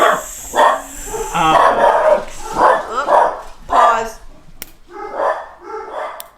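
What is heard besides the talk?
dogs barking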